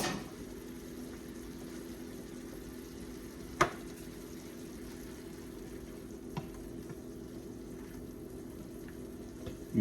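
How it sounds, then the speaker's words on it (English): Beef tenderloin sizzles in a frying pan, a steady quiet crackle and hiss at close range, with a single sharp tap partway through and a couple of softer knocks later. "Turn it over, start cooking it on the other side."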